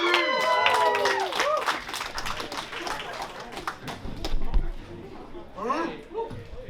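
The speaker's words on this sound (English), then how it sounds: "Please give a warm round of applause for MC Kane" Audience applause and cheering at a college open mic night, a loud crowd clapping steadily throughout with whoops, voices and a high whistle-like call over the noise.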